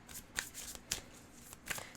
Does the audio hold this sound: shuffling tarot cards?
yes